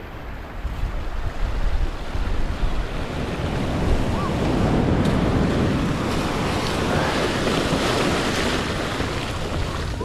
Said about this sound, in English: I got a really big wave coming behind me.